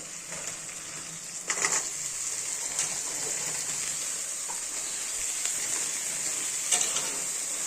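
Shelled broad beans from pandiri chikkudu pods being added to softened onions frying in a pan for chikkudukaya curry, a steady bright hiss with a few louder crackling bursts as the ingredients go in and get stirred.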